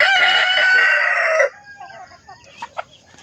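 A Black Australorp rooster crows loudly and close for about a second and a half, followed by quiet clucks and small scattered sounds.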